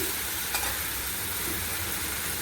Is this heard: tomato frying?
yes